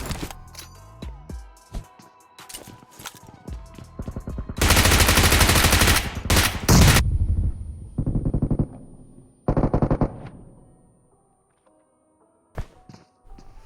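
Bursts of automatic gunfire from a PUBG-style battle royale shooter during solo third-person ranked play, with rapid close volleys, scattered single shots and thuds, then two long loud sprays and a later short burst.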